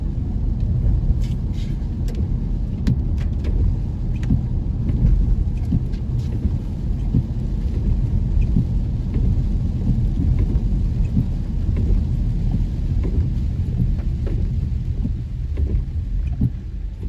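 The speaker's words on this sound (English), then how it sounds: "Another rainy day." Steady, dense rain pours on East Street in downtown Kingston, Jamaica, a continuous loud hiss and rumble filling the whole stretch, with no voices.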